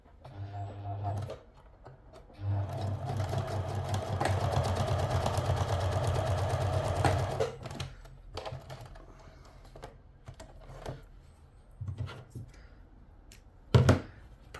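A sewing machine stitches the back seam of a cloche hat brim facing, running in a loud continuous burst of about five seconds, then stopping and giving several shorter bursts and clicks close by.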